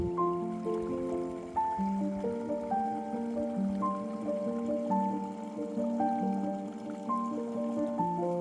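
A small stream gurgling in a secret valley in the Brecon Beacons, faint continuous bubbling and trickling water with shifting watery tones, heard alone and steady throughout.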